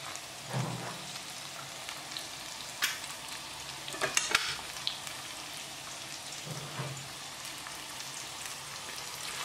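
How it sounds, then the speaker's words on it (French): Ingredients frying in oil for biryani, stirred by hand in a pan: a constant close sizzle with occasional sharper clatters and scrapes, no voices. "on va mélanger, bien mélanger avec l'huile bien sûr, et mélanger jusqu'à qu'ils viennent dorer"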